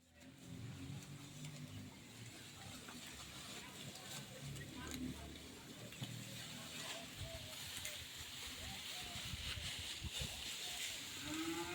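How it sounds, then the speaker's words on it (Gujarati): Cows being fed fodder at a cattle shelter, lowing now and then over a steady rustle of feeding, with people's voices murmuring in the background. "મિત્રો અમે ગાયોને સાર નાખી દીધી છે અને ગાયો બધી ખોય છે"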